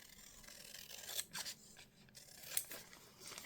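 Scissors trimming a scrap cut from a junk mail envelope, a few quiet crisp snips close by against a soft room hiss, with no talking.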